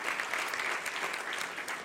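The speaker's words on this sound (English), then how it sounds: "So a round of applause for her first job as our" Luncheon audience at the National Press Club applauding a new host, a steady wash of clapping from many hands that holds evenly throughout without pause.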